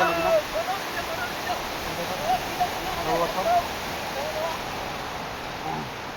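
Waterfall at Tangankana running full and overflowing in the rainy season, a steady broadband rush of falling water filling the whole clip, fairly loud and close, with faint chirps over it.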